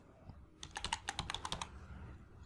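Fingers type a quick run of keys on a computer keyboard while a sheet is renamed in Microsoft Excel, about a dozen close, crisp clicks packed into one second, with quiet room tone before and after.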